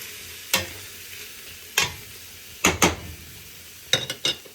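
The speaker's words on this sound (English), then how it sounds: "Give that a stir." Ginger and garlic sautéing in a pot for a vegan African peanut stew are stirred in four short scraping bursts, the first three single and the last a quick cluster, with quiet gaps between and no talk.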